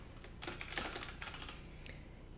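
A name being typed on a computer keyboard, a quick close run of soft key clicks in irregular bursts, with no voices.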